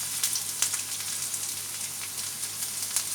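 Chopped garlic sizzles in hot oil for chilli paneer, giving a steady, close frying hiss with small crackles and pops throughout.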